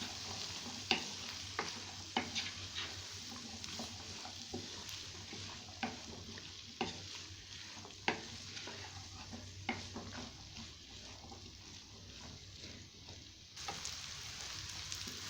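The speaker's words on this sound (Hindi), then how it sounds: "चने डाल के अब हम इनको अच्छी तरह से मिक्स करेंगे।" Chickpeas being stirred into a sizzling masala in a pan for chana masala, steady frying hiss with repeated scraping and clacking stir strokes throughout, no talking.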